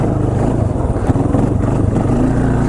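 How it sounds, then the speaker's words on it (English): A 2005 Polaris Predator ATV, freshly fitted with a new head gasket and valves, slides sideways through a low-traction corner while its engine roars loud and close, with quick throttle blips over a constant rumble. "you can literally just go into a corner sideways and just blip it a little bit"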